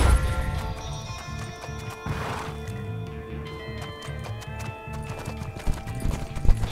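Rhythmic clip-clop of horse hooves trotting with a horse whinnying in the video game Six Guns, set against the game's background music, fairly close and steady.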